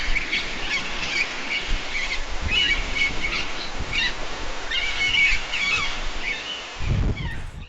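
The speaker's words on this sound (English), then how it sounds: "Seagulls squawking as ocean waves crash while wind blows heavily into a microphone." AI-generated seascape with seagulls squawking repeatedly over crashing ocean waves and a steady roar of wind buffeting the microphone, loud and continuous throughout.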